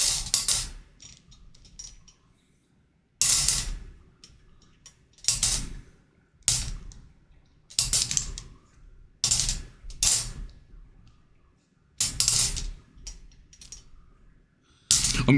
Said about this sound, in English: we're going to put all these balls, which are numbered 1 to 32, inside the machine now